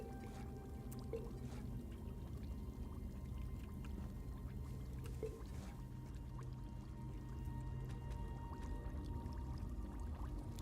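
Clear water being gathered in The Elder Scrolls Online gives a soft, faint pouring and gurgling wash, steady and low throughout with a few small drips.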